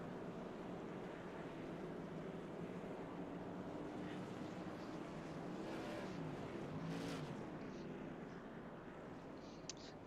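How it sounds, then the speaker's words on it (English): Tour modified race cars roll through the infield grass at Hickory to cool their tires during a championship race, a steady broadband engine rumble and tire roar holding at constant loudness throughout, with a faint voice in the background. "Got some guys going through the grass trying to cool their tires off."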